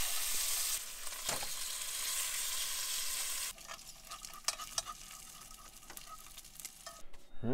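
Bacon sizzles loudly in a pan at a forest Jeep campsite, a steady broadband frying hiss that drops to a quieter crackle halfway through, with scattered pops and utensil clicks near the end.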